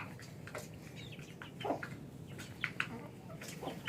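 Chickens and roosters on a small domestic poultry farm cluck softly in short, scattered calls, fairly faint against a quiet outdoor background.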